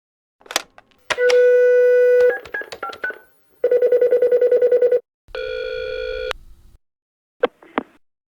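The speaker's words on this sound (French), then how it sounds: "Allô, Catherine? C'est Célia" A telephone call being placed: a few loud dialing tones and beeps, then pulsing ring tones before the call is answered, with no talking.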